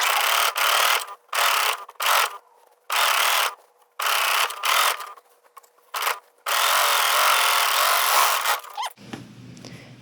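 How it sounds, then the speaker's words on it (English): An overlocker stitches and finishes a fabric garment seam in loud, close bursts of fast mechanical whirring separated by short pauses. A long run is followed by a quiet stop. "overlocking this helps compress that seam"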